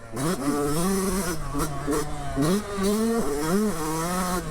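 A modern Yamaha YZ250 two-stroke dirt bike engine droning loud and close, its pitch rising and falling through repeated revs and throttle changes with no pause.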